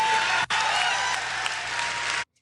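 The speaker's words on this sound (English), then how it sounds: "People clapping for this like it's happening." Dense, steady applause from an audience, loud and continuous with a brief cut near the start, ending abruptly in silence.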